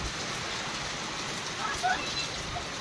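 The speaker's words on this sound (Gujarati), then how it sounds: "ત્રીજો દિવસ વરસાદ આવ્યો" Heavy rain falls on the third straight day of downpour, a steady close hiss of drops that fills the whole stretch without letup.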